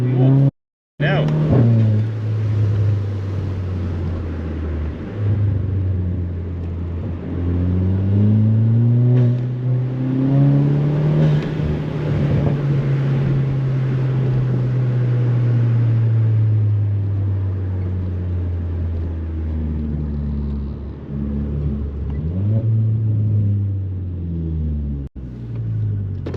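A Stage 2 tuned VW Polo GTI on a night drive, heard from inside the cabin, revs up through the gears in rising and falling engine tones, with a long pull that climbs and settles before easing off and picking up again.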